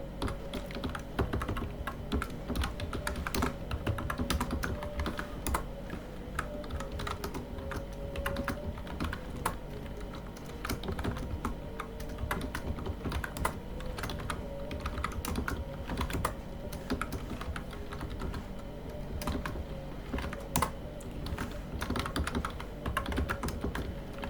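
Continuous typing on a computer keyboard, a dense, steady patter of quiet key clicks running throughout with no voices.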